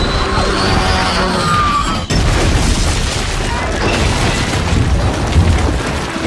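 A spaceship is destroyed in the video game Saints Row IV, setting off a loud, sustained booming explosion with a sharp crack partway through, followed by dense rumbling debris noise that holds steady to the end.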